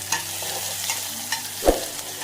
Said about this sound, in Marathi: तर आता फिरवणं चालू आहे